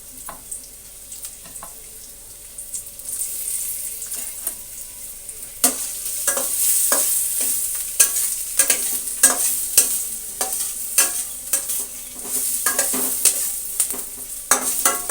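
Potato pieces fry in hot oil in a pan for Satara-style poha, giving a steady close sizzle with frequent sharp scraping and clinking strokes as the pieces are stirred.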